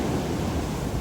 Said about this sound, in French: Les vagues des fois elles sont surprenantes.